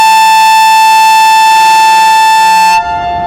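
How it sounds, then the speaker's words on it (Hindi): A Blue Tiger diesel locomotive hauling the Zikriya Express through Nawabshah station sounds its horn in one very loud, steady, sustained blast close by, then cuts off abruptly into a quieter rumble. "उफ, ब्लू टाइगर का चिंघाड़ता हुआ हॉर्न आपने सुन लिया"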